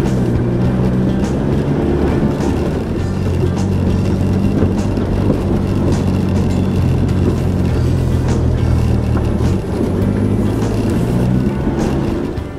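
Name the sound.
4WD vehicle engine driving up a steep track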